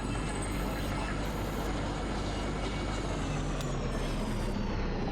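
A tram grinding along broken, messed-up track in the video game Kentucky Route Zero gives a steady, dense mechanical rumble with a hissing, airy top, continuous and unbroken, with no talking.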